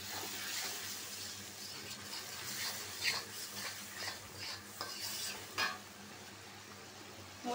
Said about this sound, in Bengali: মশলাটা কষানো হয়ে গেছে, আমি মাছটা দিয়ে দিব।